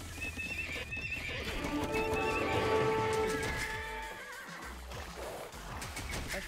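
Horses in a medieval strategy video game whinny loudly with long, shaky neighs over a steady clatter of hooves, the sound alone with no talk.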